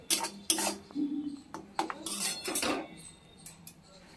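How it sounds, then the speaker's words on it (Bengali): A spatula scrapes and clatters against a pan as spice paste is stirred over medium heat, with repeated metallic clinks and scrapes close by and no talking. "মিডিয়াম আছে মশলাটাকে সমানে কষিয়ে নিতে হবে।"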